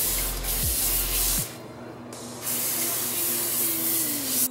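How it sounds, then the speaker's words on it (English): Cooking spray hisses from an aerosol can onto foil-lined baking sheets, a steady close spray lasting most of the moment with a short pause partway, no talking over it. "I'm going to spray them with this cooking spray"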